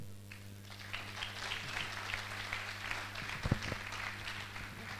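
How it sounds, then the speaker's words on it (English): Modest audience applause at a valedictory celebration for a professor of ophthalmology, scattered clapping from a crowd heard at a distance over a steady electrical hum, swelling briefly partway through. "A round of applause for."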